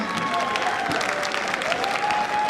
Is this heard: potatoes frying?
no